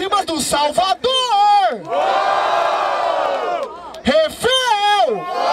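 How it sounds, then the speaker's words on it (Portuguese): A rap battle crowd at Batalha da Aldeia in Barueri roars and cheers loudly, a sustained burst of shouting that swells for about two seconds between the excited calls of a host over the noise. "Barulho para as rimas do Salvador"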